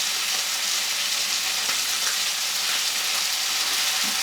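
Pork chops searing in a frying pan after being turned over, a dense, loud, continuous sizzle and spatter without pause.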